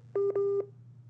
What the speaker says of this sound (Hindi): आपकी फ़ोन जो है वो आवाज़ नहीं आ रही है, फ़ोन कट रही है